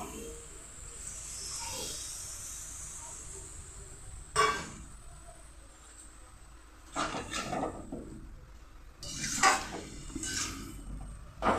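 Spice-washing water is poured into a hot pan of pumpkin vine greens, giving a broad steady sizzle and hiss with a few clinks of utensils against the pan.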